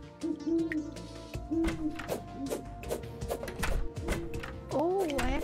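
Owl hooting in a cozy animal video game, a few short tonal hoots rising and falling over soft background music, with a voice speaking alongside.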